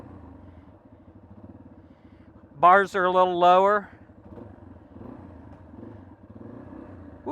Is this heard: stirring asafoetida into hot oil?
no